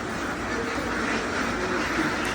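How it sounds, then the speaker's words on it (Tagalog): Ducks in a dim poultry house where they lay eggs, with a dense, continuous wash of quacking from many birds filling the space at moderate loudness. "Na-amaze din ako minsan sa mga itik."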